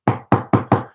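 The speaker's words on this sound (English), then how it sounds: "I hate it when passengers knock on your windows" Four firm, evenly spaced knocks on a car window, loud and close, with no talk.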